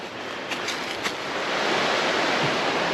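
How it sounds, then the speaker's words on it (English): Small cascade tumbling over rocks beside a forest trail, a steady broadband rush of falling water that holds at an even level throughout, with a few faint brief knocks near the start. "We're checking out a cascade"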